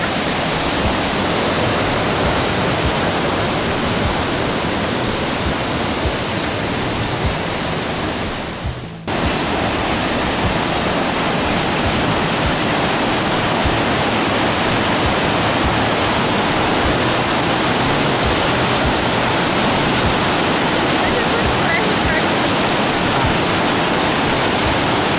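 A stream or waterfall rushes in a dense, unbroken roar close by, with one brief dip midway, no voices heard.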